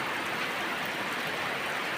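Steady rain falls on plants and foliage, a dense, even hiss close by with no breaks and no voices.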